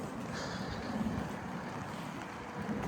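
Heavy rain tipping down and splashing on a gravel yard, a constant broad hiss of pouring water close by with no talk.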